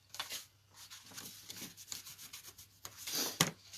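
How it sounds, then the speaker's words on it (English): A bone folder burnishes down a folded paper edge for a gift bag and card hanger, giving a series of short, soft dry rubbing strokes close by, with a brighter scrape near the end and no talk. "I'm going to take my bone folder and burnish that down really good."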